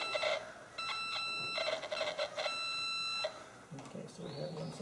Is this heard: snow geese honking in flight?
no